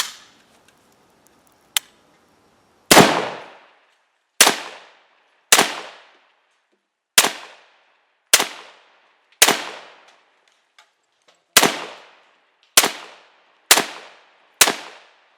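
A Ruger Mini 14 rifle fires at an outdoor range, about ten loud, sharp shots at irregular spacing, each cracking out and then decaying quickly, with near silence between them.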